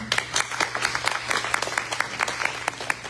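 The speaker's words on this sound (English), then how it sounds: "Can we give a round of applause for them?" Audience applause at a city candidates forum for Ward A, hosted at a barbecue restaurant, with a steady round of clapping from a modest crowd lasting throughout, fairly close and even.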